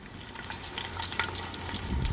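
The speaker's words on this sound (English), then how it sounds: "just wait for that oil to start boiling" Chips fry in hot, boiling oil with a steady, close crackle and sizzle of popping bubbles that stays even throughout, no voices present.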